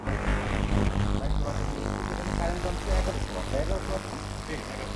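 An induction stove running at 2200 watts gives off a loud, steady mechanical hum with a droning fan-like tone, while a person talks over it.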